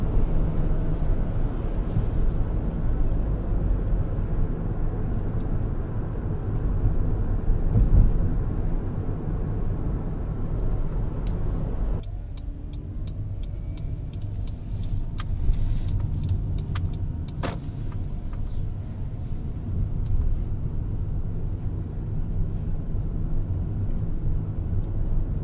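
Steady cabin road and drivetrain rumble from a Honda Odyssey Hybrid rolling downhill on a mountain road in S mode with regenerative braking, continuous throughout with a slight shift in tone midway and no voices.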